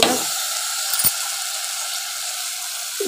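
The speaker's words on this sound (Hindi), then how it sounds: "देखिए मसाला तेल छोड़ दिया है, अब इसमें दाल डाल दूँगी। चना अरहर दाल है," Chana and arhar dal drop into hot masala oil and fry with a loud, continuous sizzle and hiss, a brief clatter near the start, and no voice over it.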